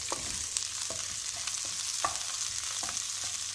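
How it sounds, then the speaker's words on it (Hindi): Green chili, garlic and ginger fry in oil in a pan, giving a soft, steady sizzle broken by scattered clicks from stirring. "पहले हम इसके अंदर हरी मिर्च और लहसुन अदरक हमने इसमें डाल दिया और इसको हम अच्छी तरह फ्राई करेंगे"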